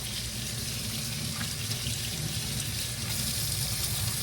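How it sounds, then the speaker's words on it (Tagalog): Tap water running steadily into a sink, a continuous close, even rushing stream with no pauses throughout. "sandali, patayin ko yung water"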